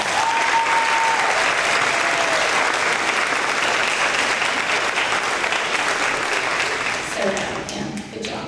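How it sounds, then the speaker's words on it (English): Sustained applause from an audience at an elementary school third-grade awards ceremony, a dense even wash of clapping that holds steady, then thins near the end as a brief tone and a voice come through. "So let's give him another round of applause."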